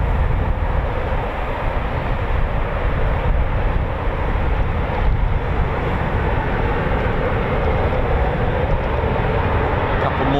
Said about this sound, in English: You can hear the beautiful EJ200 engines.